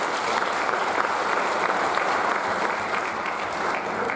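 Dense, steady applause from a crowd honoring a player at a high school baseball awards event, loud and continuous throughout.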